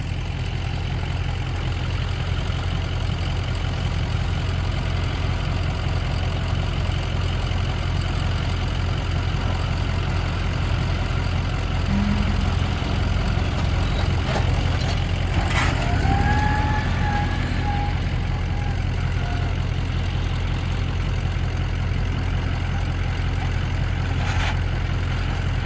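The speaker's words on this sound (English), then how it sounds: "The truck's running, so it's a little loud, and the tractor going too." Truck and tractor engines run together on a farm, a steady low rumbling drone that holds evenly throughout, with a few brief higher mechanical whines partway through.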